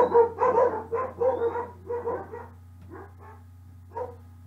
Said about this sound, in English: she has 3 dogs, so I apologize for the noise.